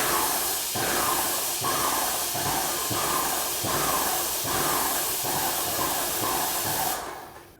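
A paint sprayer turned down to its slowest speed, spraying paint onto wood panel walls, gives a steady broadband hiss with faint rhythmic pulsing, loud and close, then cuts off abruptly near the end.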